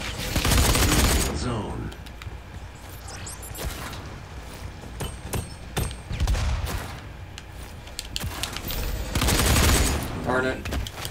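Shotgun blasts in the Doom (2016) Warpath multiplayer beta on PS4, loud booming shots with mechanical pump clatter between them, several bursts spread irregularly through the action, with a brief spoken word partway.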